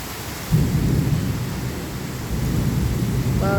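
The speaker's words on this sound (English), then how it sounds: "It hasn't rained so hard in so long." Heavy rain pours in a steady, dense roar during a thunderstorm, the downpour swelling louder partway through and holding strong to the end, with a brief tonal sound entering near the close.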